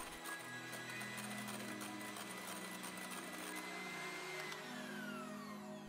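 An electric mixer whisks aquafaba into a firm vegan meringue, producing a constant motor whine with a rhythmic beating texture, steady and close throughout.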